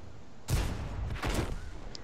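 A tank gun fires an HE round in the World of Tanks video game: a sudden loud boom, then a second blast a moment later, both with rumbling tails and no speech.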